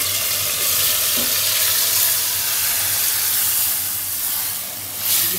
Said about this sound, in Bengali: আর এখানে পেঁয়াজটাও বেজে নিচ্ছে ভালো করে